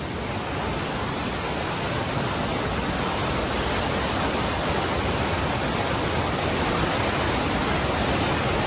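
Flood water released from the Ujani dam rushes down the river at Begampur, a loud, steady, broadband roar that holds without a break and carries no voices.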